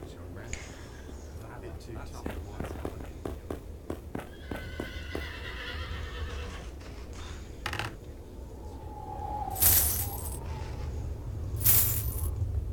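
A horse in the video game Sacred Gold whinnies amid game audio, with rhythmic hoof clip-clops and clinking effects early on, then two loud, bright neighs near the end, while faint whispered voices run underneath.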